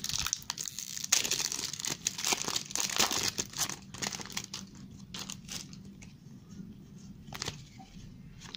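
Crinkling and tearing of a Panini Adrenalyn XL trading card packet wrapper, close up and continuous at first, then thinning into scattered rustles and handling noises.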